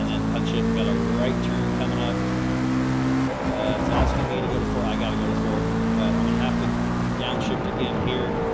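A race car engine in Forza Motorsport drones loudly at high revs, dipping briefly mid-way as the gear drops, then climbing again, with a voice talking over it.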